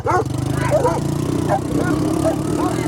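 Dogs barking outdoors near an ATV ride, a few sharp barks over a steady engine drone and a loud voice.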